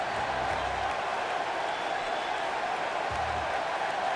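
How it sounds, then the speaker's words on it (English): A crowd in the WWE 2K19 wrestling video game fills an arena with a constant, dense roar of cheering, with low rumbling bursts near the start and end. "The crowd's on their feet in anticipation"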